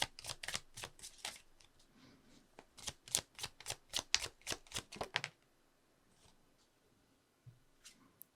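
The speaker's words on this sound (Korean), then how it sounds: "그 부분은 지금 추가 카드 조금 뽑아보도록 할게요" Tarot cards shuffled by hand, a rapid series of crisp riffling flicks in quick bursts for about five seconds, then near silence broken by a couple of soft card slides as cards are drawn.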